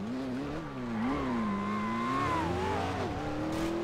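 A video-game car engine revs continuously, its pitch climbing and dipping as the throttle changes, loud and close with no one talking.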